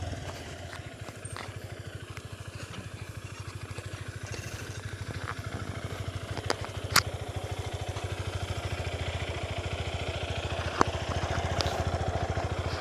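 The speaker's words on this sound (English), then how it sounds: "this motorbike is so tough" A Honda XR150L motorcycle engine runs steadily while being ridden along a rural provincial road in the Philippines, a continuous low rumble that holds constant throughout, with occasional faint clicks and rattles over it.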